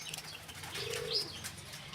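Pigeons cooing outdoors as a flock is let out to fly, a low soft coo repeating under light chirps and faint wing flutter in the background.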